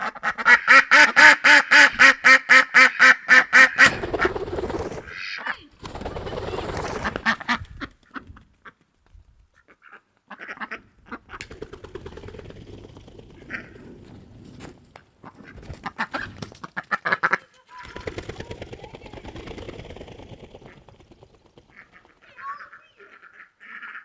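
Ducks quack loudly in a rapid run of repeated calls at the start, then scattered quacks and splashy movement follow at close range, with no talk.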